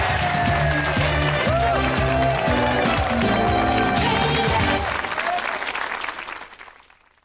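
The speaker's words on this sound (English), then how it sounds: "They'll clap at anything" Studio audience at a 1996 TV game show applauding loudly and continuously over a bright band of music, then the noise fades away toward silence at the end.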